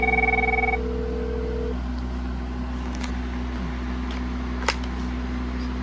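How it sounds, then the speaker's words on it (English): Avaya IP phone (9620-series handset setup on Asterisk) rings with an incoming call: a short burst of electronic ringing tones at the start, then steady hum and faint handling noises from a desk. "So, getting a call to this phone."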